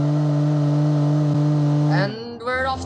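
Cheap 84-horsepower hatchback pulling away from a start, a steady droning engine hum that rises in pitch as it accelerates, then a gear change with a brief dip before the engine note climbs again, heard from inside the car.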